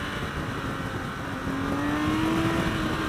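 A 2016 BMW K 1600 GT Sport motorcycle engine revs up to about 6,000 RPM in first gear, a smooth, steady drone whose pitch climbs midway and holds, heard from on the bike with wind noise.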